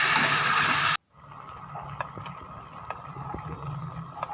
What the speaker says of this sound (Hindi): थोड़ा सा पानी डाल देंगे ताकि इसका पेस्ट तैयार हो जाए।